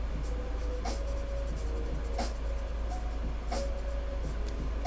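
Pencils scratch steadily across paper during coloring, a soft continuous scraping with a few sharper taps, close up and moderately loud, without talk.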